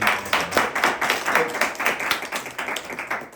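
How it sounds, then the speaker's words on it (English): A room of people clapping at a Miami gathering, moderately loud with distinct, slightly uneven hand claps pulsing through a continuous bed of applause. "give yourselves a round of applause for being here"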